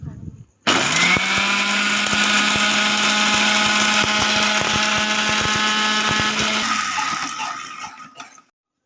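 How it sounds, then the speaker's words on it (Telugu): An electric mixer jar grinding dried rose petals and orange peel into powder, a loud, steady whirring roar with rattling particles that starts abruptly, holds for about six seconds, then winds down and stops. "ఆ ఎండబెట్టుకున్న వాటిని మిక్స్ జార్లో వేసుకొని"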